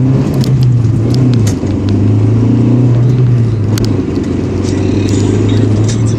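Opel Corsa engine heard from inside the car while accelerating, a loud steady drone whose pitch rises and shifts with throttle changes, with light interior rattles.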